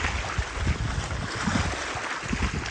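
Sea water and waves rise with the incoming tide at a Zanzibar Stone Town beach. The surf wash is steady and close, with wind noise over the microphone.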